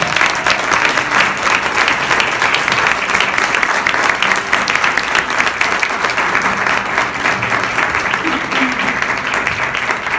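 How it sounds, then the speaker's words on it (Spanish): Loud, dense applause from a conference audience welcoming a speaker to the stage, a continuous wash of clapping hands that stays strong from start to finish. "Un gran aplauso para ella."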